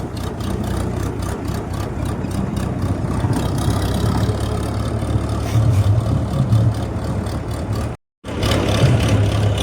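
A tractor engine runs steadily out on a farm field, a loud, continuous low rumble close by with a brief cut-out near the end.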